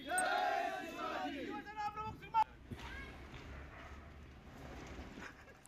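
A crowd of BJP supporters in Satara celebrates with loud shouting and chanting that is strongest at first, then thins into scattered voices and background commotion.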